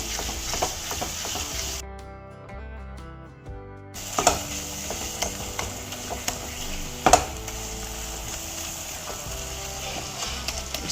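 A mixture cooks in ghee with a continuous low sizzle and bubbling, broken by a short tonal beep in the middle, while occasional sharp scraping clicks from stirring stand out over the frying.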